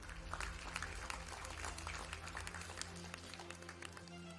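An audience at a certificate ceremony claps, a dense spatter of hands at moderate distance sustained throughout, fairly quiet overall with a low hum beneath.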